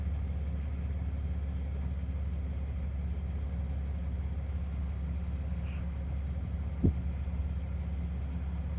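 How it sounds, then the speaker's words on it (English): A pickup truck's engine idles low and steady while the truck creeps forward slowly during a hitch setup, a continuous near rumble with one brief knock near the end. "Moving the truck forward just a little so the ball will go down all the way."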